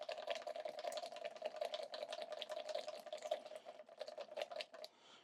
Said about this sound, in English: And whisk away.